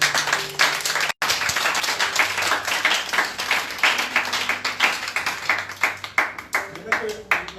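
Church congregation applauding together, a dense, continuous patter of many hands clapping at close range, briefly cut off near the start, with voices mixed in under the applause.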